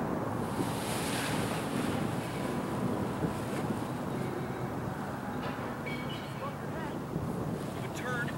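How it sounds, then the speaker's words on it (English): Steady outdoor wind roars and buffets the microphone during paragliding training in Tucson, Arizona, a continuous broadband rush throughout with no speech. "We have a nice little wind"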